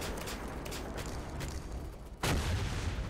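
Aerial shooting in the video game PolySquad produces fairly faint, rapid gunfire pops over background game noise, then a louder blast hits near the end.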